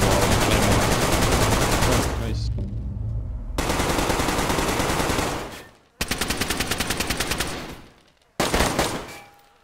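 Loud bursts of automatic gunfire in the survival game DayZ, three long sustained volleys broken by short pauses, the last one clipped and abrupt.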